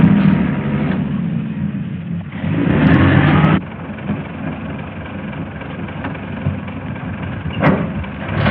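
A car engine runs steadily at close range, its rumble swelling louder for a second or so midway before settling back to a constant hum.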